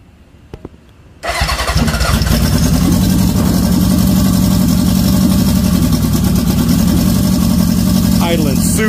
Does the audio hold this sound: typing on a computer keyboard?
no